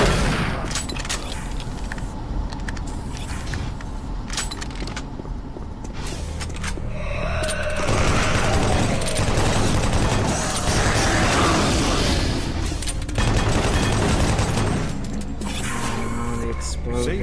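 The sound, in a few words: explosion in a video game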